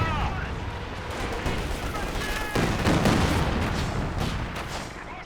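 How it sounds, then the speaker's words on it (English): A Katyusha rocket barrage in a Company of Heroes 2 match roars as a dense, continuous rumble of launches and impacts, swelling midway, with a commentator talking over it. "Ends up being a reasonable Katyusha barrage because of that."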